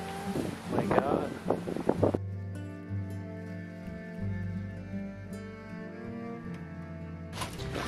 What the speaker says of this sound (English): Yeah, and the wind is blowing for sure.